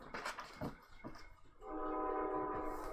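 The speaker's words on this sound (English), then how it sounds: "Oh, did you hear the train?" Brief muffled sounds give way to a distant train horn sounding a sustained chord, fairly faint, with a low rumble beneath.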